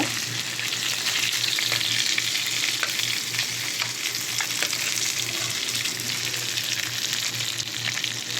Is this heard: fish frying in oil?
yes